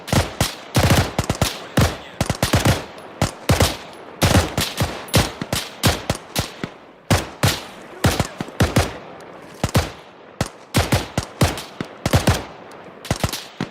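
Rapid bursts of automatic gunfire from the video game Arma 3, loud and close, dense volleys of overlapping shots rattling continuously with brief gaps, no voices.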